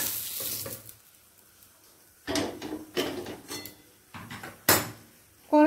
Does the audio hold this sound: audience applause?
no